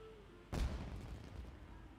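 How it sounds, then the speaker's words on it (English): A single firework bursts with a sudden deep boom in the Genshin Impact game, followed by a crackling, fading rumble, fairly quiet overall with no voices. "It sounded like fireworks."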